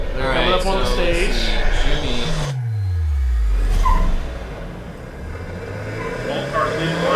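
A Mazda Miata 1.6 launches at a drag strip, its engine revving and pulling away with a falling sweep of pitch, loud over a busy background of voices and track noise.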